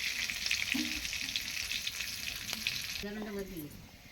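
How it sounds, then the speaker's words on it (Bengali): Hot oil sizzles in a pan over a wood fire while cooking mustard hilsa: a continuous hiss, moderately close, with a few faint tonal squeaks and clatters mixed in. "কাঠের জ্বালনে রান্না হচ্ছে"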